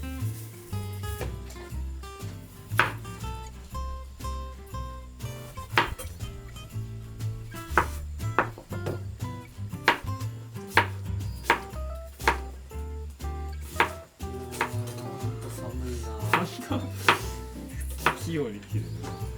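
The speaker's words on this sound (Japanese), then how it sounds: "器用に切る。" Kitchen knife chopping ingredients for pork miso soup on a cutting board, a steady run of close, sharp knocks over a low background hum with occasional clinks of pots.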